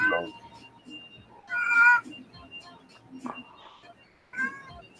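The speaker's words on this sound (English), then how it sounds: "That's one loud cat." A domestic cat meows loudly several times in a house during a Sunday-morning 3D printing session, with bursts of mewing spread across the clip and people talking in between.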